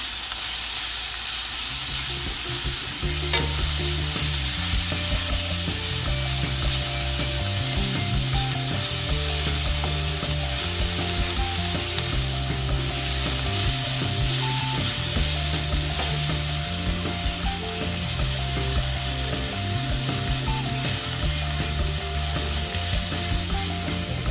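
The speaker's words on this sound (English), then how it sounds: "Mix them using wooden spoon." Fried kimchi sizzles loudly in a pan while a wooden spoon stirs it, with close, rhythmic scraping strokes repeating over steady frying hiss and no voices.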